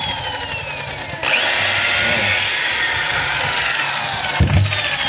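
A DeWalt rotary hammer switched into drill mode runs steadily and loudly with a high motor whine, rising in pitch after spinning up, with a brief bump near the end and no voices.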